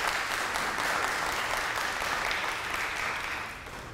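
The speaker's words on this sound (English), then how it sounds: "Can we have a round of applause for Pat" An audience claps steadily in a room for a speaker being honoured, a dense, even wash of applause that holds for several seconds and then begins to taper off near the end, with no voices.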